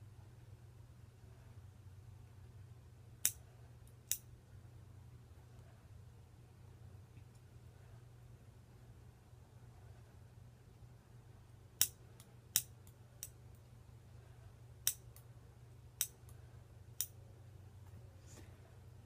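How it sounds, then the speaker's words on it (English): Scissors snip through folded double layers of fleece for a no-sew blanket, about ten sharp isolated cuts spaced irregularly over a low steady room hum, fairly quiet and close. "Cut through the double layers folded."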